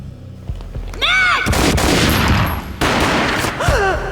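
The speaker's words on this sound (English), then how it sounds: "A gunshot boomed and she fell down in slow motion" Gunfire in the video game Max Payne, with loud overlapping shots and booms in dense bursts alongside shouted voices and a slowed, warped cry.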